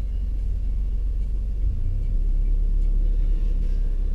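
A car in a driving lesson pulls away from a stop at the bite point with gas, a loud, steady low engine rumble heard from inside the cabin that swells slightly midway, with no talking.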